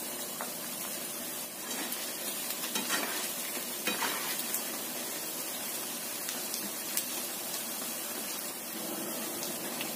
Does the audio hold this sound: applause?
no